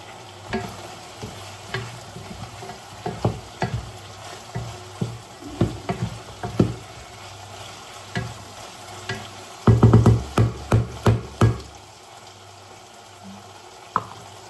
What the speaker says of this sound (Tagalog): medyo nag-turn na siya into golden brown yung ibang chicken.